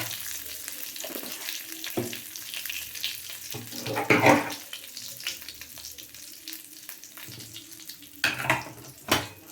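Tempering for mor kuzhambu sizzling and crackling in hot oil, a steady close fry with sharper popping bursts now and then.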